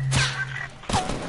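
Video game gunfire: two quick, punchy shot bursts close together, mixed with other game effects.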